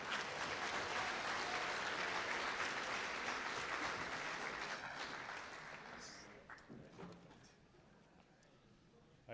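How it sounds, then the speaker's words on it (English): An audience at the opening of a generative AI event applauds a speaker with full, steady clapping that fades over several seconds as the ovation dies down, with a brief noise at the very end. "Can we have a huge round of applause for Lucas?"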